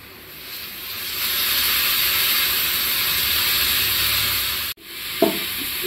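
Steady, loud frying sizzle as potatoes go into a pan of fried green chillies for noodles, continuous hiss with a brief dip and a clatter near the end.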